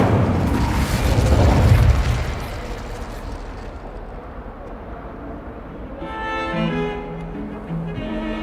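Fire spell Incendio cast in Hogwarts Legacy: a loud, roaring burst of flame and boom that swells over the first two seconds and then fades, followed by soft tonal game music.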